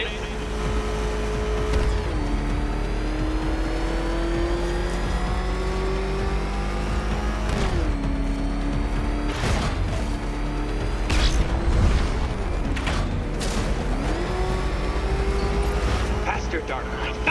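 The Batmobile's engine revs hard in Batman: Arkham Knight, a loud, constant motor drone with repeated rising and falling pitch sweeps as it accelerates and shifts, with sharp impact bursts scattered through and a voice talking over it.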